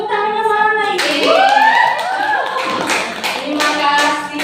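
An audience clapping in a classroom or presentation setting, a continuous patter of hands under loud voices calling out and chattering over it.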